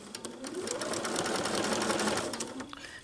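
A sewing machine runs steadily, stitching fabric for a festive advent calendar, a continuous close whirring that lasts throughout at low volume without any talk.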